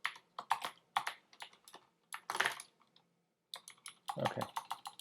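Close, clicky keystrokes on a computer keyboard with blank, unlabeled keycaps, tapped in quick uneven bursts separated by brief pauses, with no voices.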